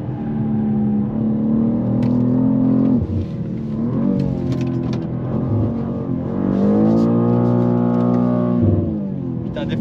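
A 912-horsepower BMW M3 accelerates hard in a drag race, its engine rising in pitch through the gears with a brief drop at each shift, loud and close throughout.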